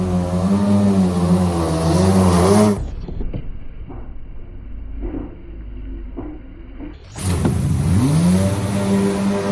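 A high-revving jet ski engine roars loudly with a rising and falling pitch, drops to a lower rumble with scattered thumps for a few seconds, then surges back to a loud whine, during a ramp jump in a snowstorm.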